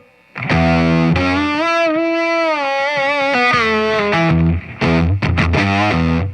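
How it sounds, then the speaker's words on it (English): An electric guitar played through a squishy, corrosive distortion effect rings out loud and close, with sustained bending notes followed by a few short choppy stabs and no talking. "So that's got like this kind of squish and, Yeah, it's got the like squish. a cool kind of like corrosive distortion."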